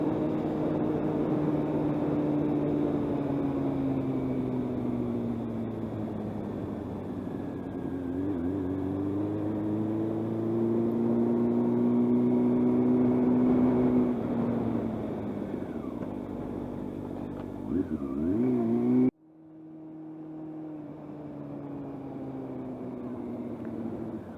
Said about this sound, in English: That makes the bike yeah, very easy to ride even at low speed in city traffic